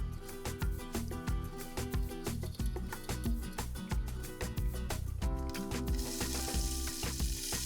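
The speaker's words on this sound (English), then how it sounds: "I'm gonna warm up some olive oil and saute my onions." Onions sauté in warming olive oil in a Greek home kitchen, a close, steady crackle and sizzle broken by sharp clicks and taps, growing into a brighter hiss near the end.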